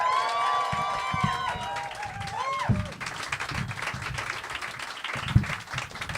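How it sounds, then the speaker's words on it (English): A comedy club crowd claps and cheers for a performer, the applause strongest at the start and tapering off, with someone speaking over it and footsteps thudding nearby. "Put a huge round of applause"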